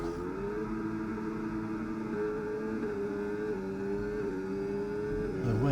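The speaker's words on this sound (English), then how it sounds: "There's the rev, so he is revving." A race car engine revs on the starting grid at Imola, its steady buzzing harmonic drone holding close and loud for several seconds before swelling slightly at the end.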